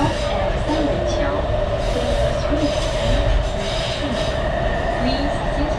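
Beijing subway Airport Express train running: a continuous rumbling ride with wheel squeal and rail noise heard from inside the car, while a voice speaks over it.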